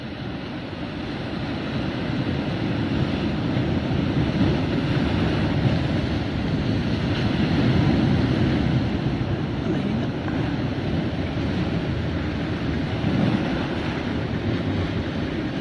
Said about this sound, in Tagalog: Pero may mas malakas pang alon.